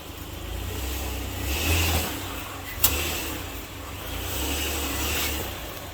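Toyota Venza engine revving as it climbs up into a garage shop, a steady mid-range drone with a brief clunk partway through.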